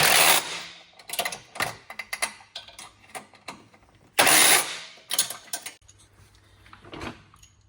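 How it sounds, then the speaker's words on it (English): A wrench and ratchet tighten the bolts on the running board brackets of an Epic E40FX golf cart. Irregular bursts of quick ratchet clicks come up close, broken by short pauses, with no voices. "I'm just using a wrench and a ratchet."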